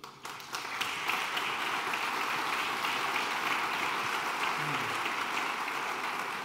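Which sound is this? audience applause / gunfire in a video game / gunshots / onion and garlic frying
audience applause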